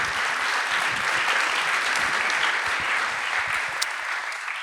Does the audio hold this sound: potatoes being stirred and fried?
no